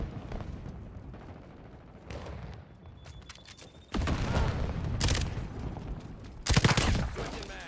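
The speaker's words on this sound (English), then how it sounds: "Taking heavy fire." Heavy gunfire in the video game Modern Warfare: dense bursts of shots that swell loud from about four seconds on, with sharp, booming volleys near the end and quieter firing earlier.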